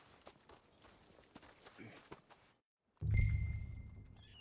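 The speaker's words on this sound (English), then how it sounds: "Okay, this is my current horse. I would like to stable this beautiful. This is a Shire." A Shire horse, a heavyweight breed in Red Dead Redemption 2, walks with soft, irregular hoof clip-clops at moderate distance, followed by a brief silence and then a louder, rumbling burst of ambient game sound.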